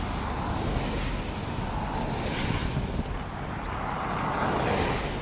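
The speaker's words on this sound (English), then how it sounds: "A little windy in spots." Wind gusts across the Macdonald Bridge during a snowstorm, a loud, constant rushing roar buffeting close to the microphone, with no speech.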